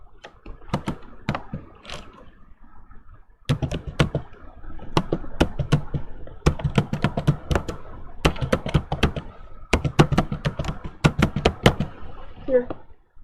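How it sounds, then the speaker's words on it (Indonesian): Someone types on a computer keyboard in a word processor, sharp key clicks coming in quick uneven runs with short pauses between bursts, close and clear with no talking. "mengetik dulu."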